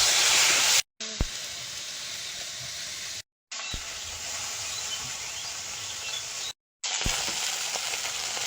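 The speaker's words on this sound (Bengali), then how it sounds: "প্রথমে চিংড়ি আর গুলে মাছটা ভেজে নেবো।" Prawns and gule fish frying in oil in a village kitchen, a close, steady hissing sizzle broken by brief silent gaps and a few sharp knocks.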